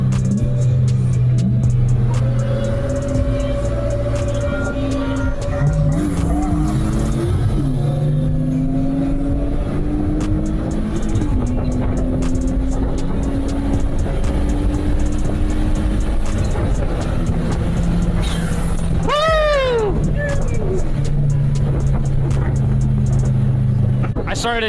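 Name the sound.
supercharged BMW E36 car accelerating in a roll race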